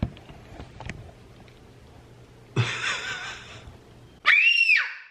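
A child lets out a sharp, loud scream near the end, preceded by a burst of noisy rustling and quiet household sounds.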